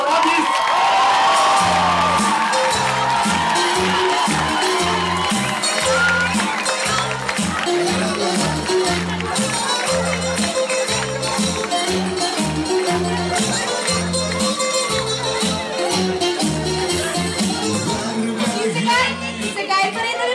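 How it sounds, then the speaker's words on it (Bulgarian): An audience at a talent show in a Varna disco claps and cheers loudly, whoops rising over a thumping dance beat while a voice calls out across the room. "Аплодисменти за Танасис Камеларадис!"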